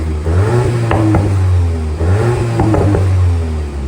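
A Volkswagen Golf 8 GTI with its stock exhaust revs hard close by, with two quick throttle blips, a short drop, then another pair of sharp rising revs and engine clatter.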